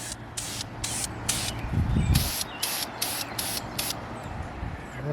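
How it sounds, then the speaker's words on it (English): VHT flame-proof high-heat primer is sprayed onto a brake caliper in about nine short, evenly spaced aerosol bursts, each a crisp nearby hiss over low background rumble. "now I use this VHT, this flame proof high heat primer, and I do the same thing"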